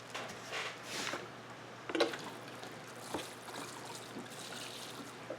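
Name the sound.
sprinkling water over transplanted seedlings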